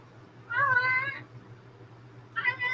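A cat meows twice, nearby and fairly loud, with a drawn-out cry early on and a second shorter meow at the end over a quiet low hum in a room.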